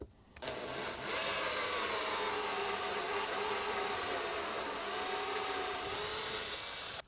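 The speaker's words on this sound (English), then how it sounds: "so we're going to drill the other one now" A drill runs steadily and continuously at high speed while boring a hole for a mount on an X1C/P1S 3D printer, producing a near, sustained whine that starts abruptly and stops at the end.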